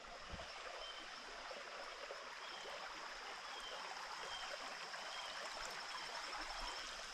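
A creek in the Walls of Jericho canyon on the Alabama-Tennessee line flows steadily nearby, its water babbling and hissing in a constant, even wash with no voices.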